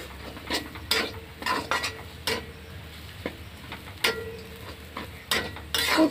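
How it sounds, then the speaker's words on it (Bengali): A potato filling being stirred in a pot, village style, gives close, irregular scrapes and clinks of a utensil against metal, loud and intermittent, with no voices. "ভালো করে নাড়াচাড়া করতে হবে।"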